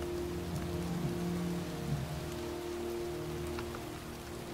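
Steady heavy rain pours continuously in the video game Heavy Rain, a dense hiss with a low droning hum beneath it and no voices.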